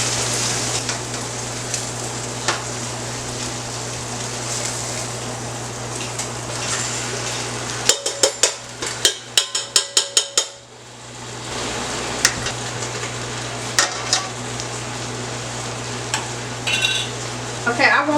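A beef roast goes into a hot pot on the stove, with a steady low sizzle, a burst of sharp clanking pot and utensil clatter midway, and then the sizzling again.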